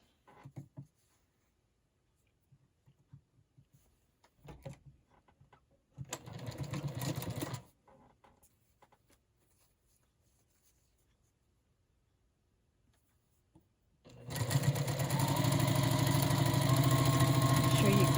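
A sewing machine stitches medium and background fabric strips onto dark quilting fabric, first in a short burst and then in a longer, steady, close run after a quiet pause.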